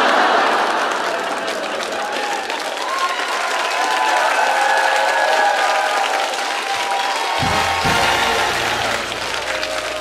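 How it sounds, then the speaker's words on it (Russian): Sustained applause from a comedy competition audience, a dense, loud wash of clapping that holds steady for about ten seconds before thinning at the end. "Продолжаем, продолжаем хлопать, друзья"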